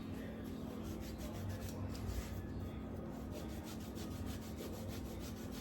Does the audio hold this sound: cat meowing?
no